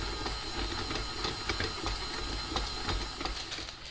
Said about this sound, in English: go over to the mixer and use a dough hook and just mix this up